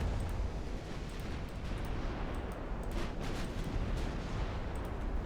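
Heavy naval gunfire from battleships in an Ultimate Admiral Dreadnoughts sea battle, a continuous loud rumbling barrage with booming shots layered over one another and no talking.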